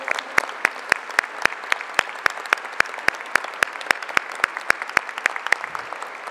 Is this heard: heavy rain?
no